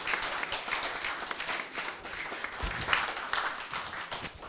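A seminar audience claps and applauds steadily, dense and fairly loud, with a few louder claps standing out, no voices.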